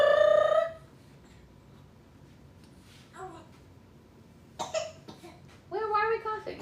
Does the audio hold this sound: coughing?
yes